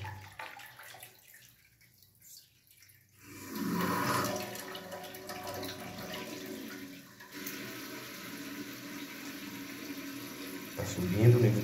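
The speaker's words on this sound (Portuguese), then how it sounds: "Tá subindo o nível da água." Water rushes and hisses as it refills a Deca coupled toilet cistern tank, a continuous close-up flow that swells and shifts, with a voice talking faintly in places.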